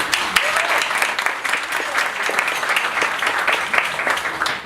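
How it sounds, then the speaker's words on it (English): An audience at a charity event applauds loudly and steadily, a dense wash of many hands clapping nearby for several seconds with some voices mixed in. "Big round of applause to all of you."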